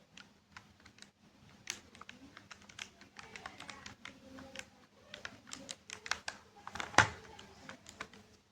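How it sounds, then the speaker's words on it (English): Calculator keys are tapped in a quiet series of light, irregular clicks, soft and close, with one sharper tap standing out near the end and no voices over them. "if you type this into the calculator"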